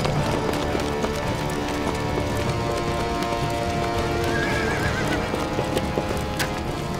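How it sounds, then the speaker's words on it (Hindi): Horses galloping with dense clip-clop of hooves and repeated neighing, loud and continuous, set in a dramatic historical battle scene with soldiers mounting up. "सब जाओ, अपने घोड़े निकालो।"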